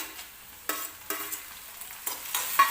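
Tomatoes sauté with onion in a pan for Maggi, a soft sizzle punctuated by several sharp stirring strokes that bring bursts of louder frying hiss, no talking.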